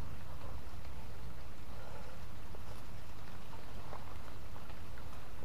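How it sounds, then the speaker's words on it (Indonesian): Heavy rain pours down in a dense, unbroken hiss, steady and close, with no voices. "Keras hujan ini bosku."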